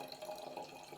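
Apple and ginger juice, pressed from three apples and several big pieces of ginger, pours steadily into a brewing vessel as a soft continuous liquid trickle with no talk.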